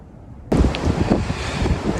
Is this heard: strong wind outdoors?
yes